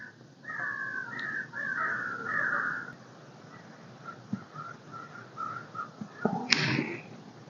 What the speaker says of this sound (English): the West Thicket apparently is fantastic crow roosting habitat.